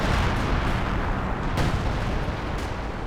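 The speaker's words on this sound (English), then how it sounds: "Major artillery forcing another retreat." Heavy artillery fire in the Company of Heroes 2 strategy game, a dense, continuous roar of blasts and rumbling explosions with a couple of sharper impacts, loud and close throughout.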